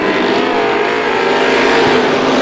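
Strictly stock cars racing at Star Speedway just after the green flag, a loud dense roar of engines from the pack at full throttle, sustained and close, with no talk over it.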